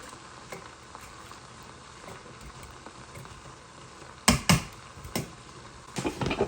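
Pasta water rolls at a boil in a pot as a soft continuous bubbling, with several louder clatters of a lid or utensil near the end and no talk.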